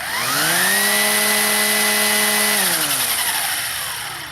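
A Ryobi 18-volt brushless string trimmer runs on its high setting, its motor whine rising in pitch, holding a steady loud tone close by, then winding down as it slows.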